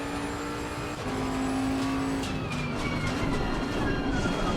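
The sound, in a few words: Bentley GT3 race car engine in Assetto Corsa Competizione video game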